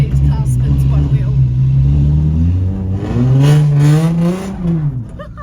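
A car on wet, snowy ground spins one wheel, its engine droning and then revving higher in a rising, wavering whine, loud and close, with someone talking over it before the sound dies away.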